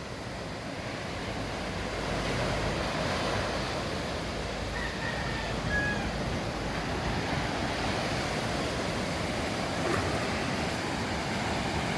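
Waves breaking offshore along an eroding Philippine beach, seen from a seaside house, make a steady broadband wash of surf with continuous wind noise throughout, fairly even in loudness and never silent.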